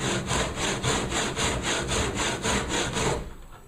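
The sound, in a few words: hand saw sawing through pine wood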